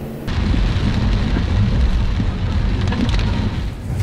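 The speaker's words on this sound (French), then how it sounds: "Il pleut à torrent." Heavy rain pours down in a dense, loud roar that starts abruptly and stays steady, close by with no voices.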